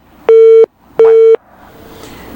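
After a phone call on a broadcast is hung up, the line plays two loud, identical electronic beeps of about a third of a second each, evenly spaced, followed by quiet line hiss.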